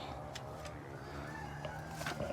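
Backyard chickens and an aggressive Americana rooster cluck and murmur at close range against a steady low hum, with a few brief sharper calls toward the end.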